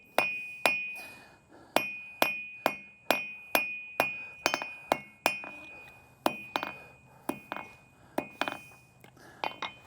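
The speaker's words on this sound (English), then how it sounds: "We're going to use our cross peen, pull the sides out." Cross peen hammer striking hot forged metal to shape a leaf on an anvil, a series of sharp ringing metallic blows with a bright lingering ring, spaced roughly every half second and falling into a looser rhythm toward the end, no talking.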